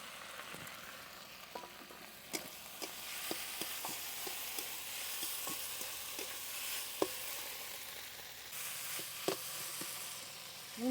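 Ground spice paste sizzling in a pan of oil for a fish curry with river fish and eggplant, a steady faint hiss broken by scattered small pops and the odd scrape of stirring.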